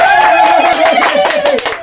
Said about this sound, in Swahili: Mpige makofi, mpige makofi.